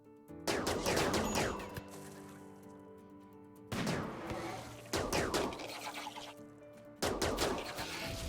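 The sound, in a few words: charge rifle gunfire during raid in RimWorld video game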